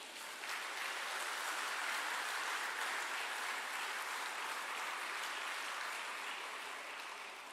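An audience at a political science department alumni reunion applauds former teachers with a full, warm round of clapping that holds steady for about seven seconds and eases off slightly at the close.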